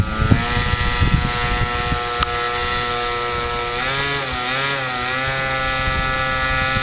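A Sig Kadet Senior model float plane engine drones close by at Eagle Lake in a steady buzzing whine. Its pitch rises and sags as the throttle changes, with no voices.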